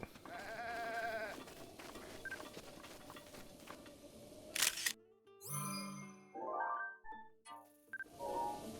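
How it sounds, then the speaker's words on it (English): A white goat in the video game Zelda: Breath of the Wild bleats several times in short, wavering calls, standing out loudly against game music and ambient sound. "a white goat."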